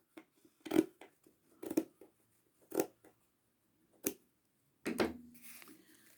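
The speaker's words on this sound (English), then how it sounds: "and with your scissors you cut them across the middle." Scissors snipping through wool strings on a card for a handmade wool coaster, five separate close crisp cuts spaced about a second apart, the last one longer with a soft rustle of fibres after it.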